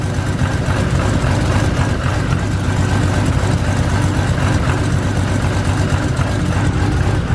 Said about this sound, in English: I'm gonna let this warm up for a couple of minutes and we're gonna go take it for a drive